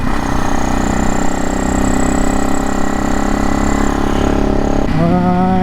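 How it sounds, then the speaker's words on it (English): A Supermoto motorcycle rides along a road on a sunny Colorado day, with a loud steady engine drone and wind rush close up that shifts in pitch near the end as the bike changes speed, no talking. "we are out on the Supermoto"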